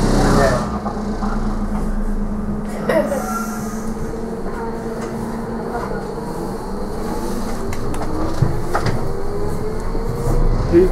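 Docklands Light Railway train running near Pudding Mill Lane in London, a steady low rumble and rail hum throughout with occasional clunks, people talking over it.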